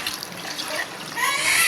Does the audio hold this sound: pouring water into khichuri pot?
yes